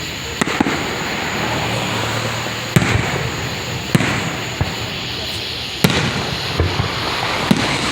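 Fourth of July fireworks pop and crack at irregular intervals over a constant crowd hiss, some bursts sharp and close, others more distant.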